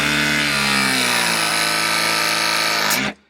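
An RP 115 plumbing press tool runs in one steady, loud motor whine for about three seconds. The pitch shifts slightly before it stops abruptly, close up and with no talk.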